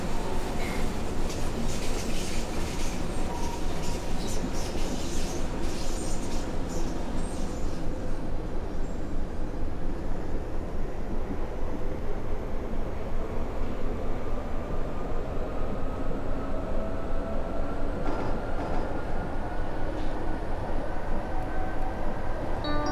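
U-Bahn subway train running in the OMSI 2 simulator, travelling toward Biesdorf-Süd: a steady rumbling roll of wheels and motor that holds for over twenty seconds, with a rising whine and faint clicks over the rails.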